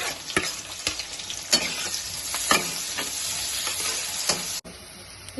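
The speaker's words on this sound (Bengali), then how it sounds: "তাই জন্য আগে পেঁয়াজটা দিয়ে দিচ্ছি" Onion fries in oil in a pan, hissing steadily while a spatula stirs and scrapes, giving repeated sharp knocks against the pan over the continuous close sizzle, ending in a sudden drop.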